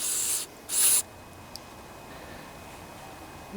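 Two short bursts of carburetor cleaner or compressed air sprayed into the passages of a Tecumseh carburetor from a Toro GTS lawnmower, a hiss then a louder hiss, followed by a faint tick and quiet background.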